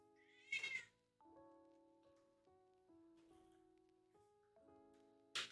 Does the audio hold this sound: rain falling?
no